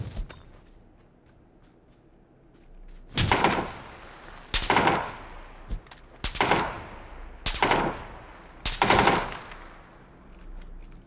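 Bursts of gunfire in PUBG, five loud, evenly spaced volleys of rapid shots each lasting about a second, cracking through a quiet background with a low game hum.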